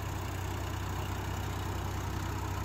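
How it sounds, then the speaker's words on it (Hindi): A Sonalika DI 35 tractor engine, 2023 model, runs a KSD 7-foot rotavator on economy PTO with its RPM dropping: a steady, loud, broadband diesel drone with a low throb, continuous and unbroken, with no voices. "तो इस वजह से RPM ड्रॉप कर रहा है ट्रैक्टर।"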